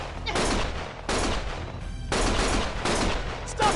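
Bursts of gunfire in the video game Lost Judgment, several loud volleys of rapid shots separated by short gaps, mixed with game sound.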